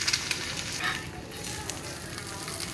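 An egg frying half-done in a pan gives a soft, even sizzle with a few light clicks near the start.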